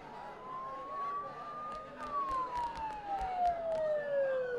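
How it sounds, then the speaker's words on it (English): Wailing emergency sirens inside the video game Persona 4 Golden, a rising then falling tone over a low background hum, moderately loud and seeming fairly close, with no talking. "Don't those sirens sound really close?"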